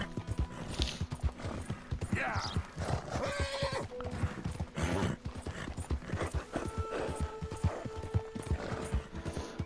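Horse hooves clip-clopping at a gallop with several loud neighs and whinnies in Red Dead Redemption 2, rhythmic thudding hoofbeats close and prominent throughout.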